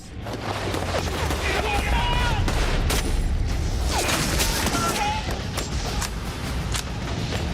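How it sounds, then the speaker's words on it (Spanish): Dense crackle of rifle gunfire with scattered sharp single shots over a constant rumble of battle noise, busy and loud throughout. "Tuve que continuar disparando mi rifle. Tiros sueltos."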